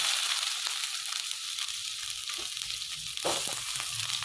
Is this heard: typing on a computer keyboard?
no